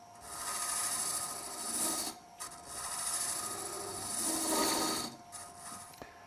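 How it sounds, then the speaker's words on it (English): A Robert Sorby Sovereign Ultima hollowing tool cuts into spinning wood on a lathe, giving a steady rasping shave in two long passes with a brief pause between, close and alone. "Approach the wood slowly and start to cut"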